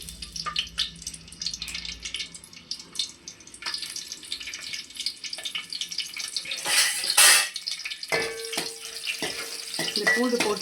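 Garlic dropped into hot cooking oil gives a close, steady crackling sizzle with brief louder hissing bursts and a few light clinks of utensils toward the end.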